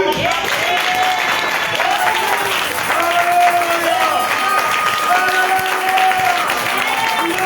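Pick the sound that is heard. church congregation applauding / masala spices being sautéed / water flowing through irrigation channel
church congregation applauding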